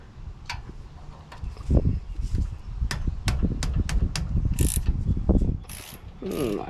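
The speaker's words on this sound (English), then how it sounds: "I'm going to set your ratchet to stun." A ratchet wrench clicks in quick bursts while brake rotors are changed on a Ford Expedition, with sharp metallic ticks in uneven runs, loud and close, with clanks of the tool between strokes.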